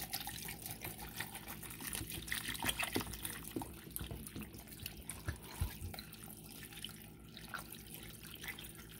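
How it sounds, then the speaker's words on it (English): Tap water running and splashing into a pot being filled for canning turkey, a steady close liquid wash with brief drips and gurgles, no talking. "I'm going to add some more water."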